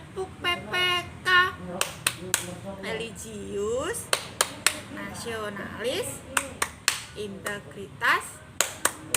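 Children in a classroom perform the Tepuk PPK clapping chant, sharp hand claps landing in a steady rhythm between their loud, sing-song chanted words, with an adult voice leading.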